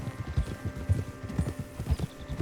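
Horse hooves clip-clop steadily in the video game Red Dead Redemption 2, a rhythmic series of dull thuds at walking pace over a low background hum.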